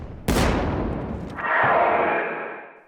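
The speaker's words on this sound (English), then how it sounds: "you'll hear whatever is down there make another growl right after the explosion." In the Battlefield 1 video game, a sharp loud explosion bursts out, its boom decays, and then a low drawn-out creature growl rises and fades over the next second and a half.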